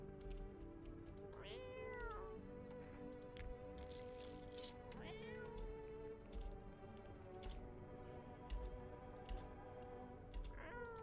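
A cat meows in a video game, three rising meows spaced a few seconds apart over a faint buzzing insect-like background hum, with no talking.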